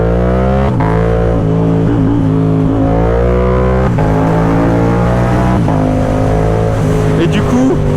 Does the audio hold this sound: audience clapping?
no